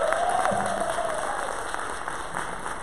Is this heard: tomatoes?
no